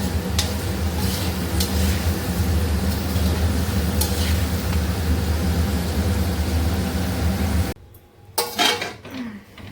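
Green beans fry in a pan beside carrots, a steady broadband sizzle over a low stove hum that cuts off abruptly near the end, followed by a few scattered clatters.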